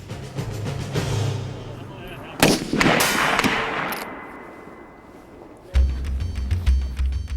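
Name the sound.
sniper rifle shots at range targets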